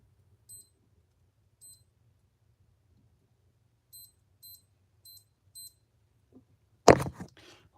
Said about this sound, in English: I want to put the hourly chime on.